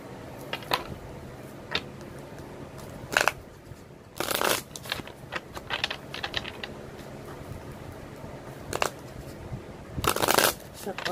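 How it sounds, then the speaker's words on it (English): Tarot cards are shuffled close up in repeated bursts of riffling and flicking, with quieter handling taps in between; a voice talks softly now and then. "now let me get your cards here"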